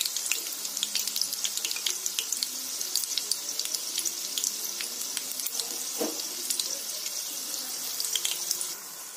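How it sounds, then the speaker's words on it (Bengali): Batter-dipped bundles of coriander leaf stems deep-fry in hot oil, a dense close hiss of sizzling with crackling pops throughout and no talking. "এইভাবে ব্যাটারে ডুবিয়ে ডুবিয়ে ভেজে নেব"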